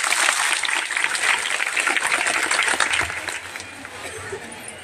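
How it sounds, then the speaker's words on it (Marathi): Crowd applause at a Buddhist event honouring Gautama Buddha, a dense wash of many hands clapping together, loud and sustained before easing off toward the end. "ह्या सर्वांसाठी एक मोठ्या टाळ्यांचा हात होऊन जातो"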